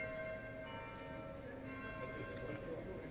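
Church bells ringing on and on in the background, a steady layered tolling that stays faint and distant beneath a man's continuous speech.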